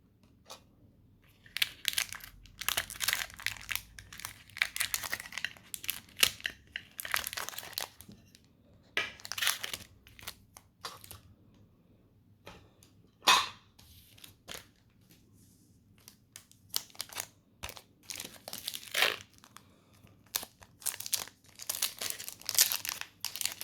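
Wrappers of Pokémon card booster packs from a Kanto mini tin being torn open and handled, giving loud crinkling, crackling and ripping bursts in separate clusters with quiet gaps between them, close up and with no talking.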